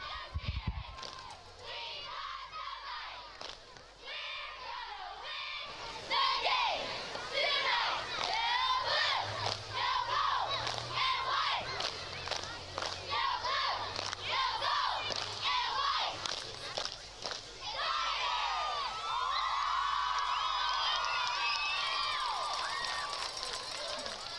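Loud, sustained crowd cheering and shouting fills a high school football stadium, with excited voices and yells rising and falling continuously over a low rumble.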